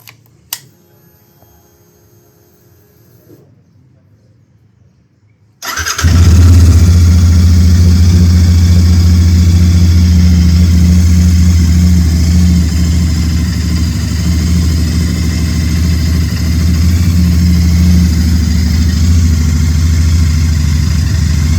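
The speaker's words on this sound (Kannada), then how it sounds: "ಬನ್ನಿ, ಲೆಟ್ಸ್ ಡೂ ಕೋಲ್ಡ್ ಸ್ಟಾರ್ಟ್." Royal Enfield GT 650 motorcycle cold-started at a service centre: a quiet ambient stretch, then the engine catches abruptly and settles into a loud, steady, throbbing idle with slight revving that continues to the end.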